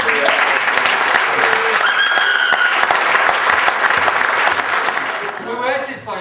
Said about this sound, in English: I think we should give her a round of applause